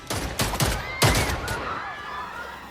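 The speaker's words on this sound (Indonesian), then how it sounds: "Tiba-tiba Han mengeluarkan pistol dan menembak ketua Ji." Pistol shots ring out in an action film scene, a few loud cracking bursts in quick succession with reverberant tails fading into the background.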